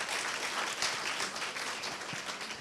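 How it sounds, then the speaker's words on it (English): Audience at a Women in Data Science Oslo event applauds the sponsors, a dense, steady wash of many hands clapping that fills the room for the whole stretch. "Let's give them a round of applause"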